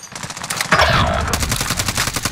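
Rapid automatic gunfire in Call of Duty: Warzone, a Payload match on PC: a dense, loud burst of machine-gun shots rattling continuously through the whole stretch with no speech.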